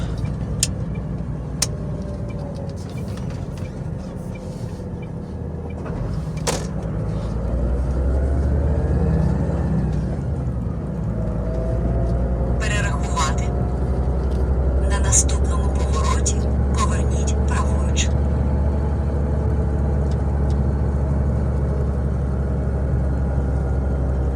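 A car drives into heavy traffic at a junction in Germany, with a steady engine rumble and road noise throughout, rising slightly as it pulls in, while people talk over it.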